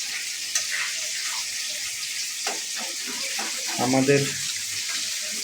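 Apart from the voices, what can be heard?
meat cooking in a pan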